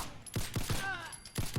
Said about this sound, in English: So we'll shoot these gunners and we'll kill them, and I'll just let you listen to how this thing fires.